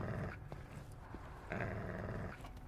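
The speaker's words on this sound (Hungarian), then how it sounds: "Nézd meg, csak morog" A creature in the VR game Convrgence gives a low, continuous rumbling growl that swells and ebbs over a couple of seconds and fills the foreground.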